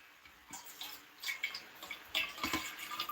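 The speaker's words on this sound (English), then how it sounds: "I'm pouring it into my new water bottle" Water pouring into a new drinking bottle, close and fairly quiet, with a brief trickle followed by a more steady splashing stream in uneven bursts.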